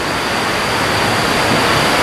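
A river flows below the site as a steady, dense rush of water, loud and unbroken, with no voices over it.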